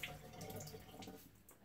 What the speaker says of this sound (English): wash that off here. Put a little cold water in the face.